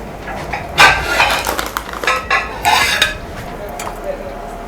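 Metal utensils scrape and clink against a pot and plates as vegan ackee and dumplings are dished up, several irregular sharp clatters close by, with no talking.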